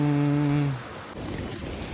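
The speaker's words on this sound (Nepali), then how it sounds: "पानी परिरहेछ" Heavy rain patters down at Dodang in the Rolwaling valley, Nepal, after a brief low tonal hum fades out, a dense hiss of falling water continuing to the end.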